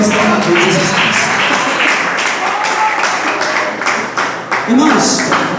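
A church congregation clapping together in praise, dense and continuous hand claps with a lively rhythm, close and fairly loud, briefly dipping before picking back up, with some voices mixed in.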